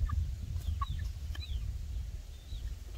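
A chicken with an injured leg clucks in short scattered bursts over a steady low rumble of background noise, fairly close and moderately loud.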